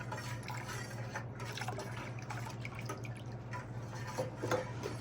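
Fresh squeezed orange and lime juice poured for homemade sangria, a continuous close liquid trickle and splash over a steady low hum, with no talking.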